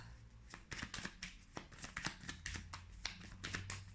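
Tarot cards being shuffled by hand in rapid, uneven riffling bursts for about four seconds, close and moderately loud, with a faint low hum underneath and no talk.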